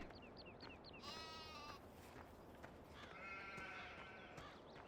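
Sheep in the Farming Simulator 17 video game bleat repeatedly, faint and distant over quiet ambient noise, with several overlapping calls at steady intervals.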